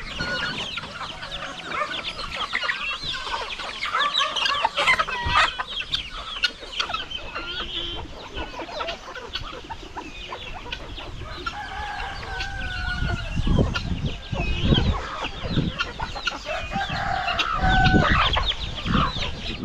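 Chickens cluck continuously and roosters crow on a crowded rural poultry farm with turkey chicks, the calls overlapping near and far for about twenty seconds.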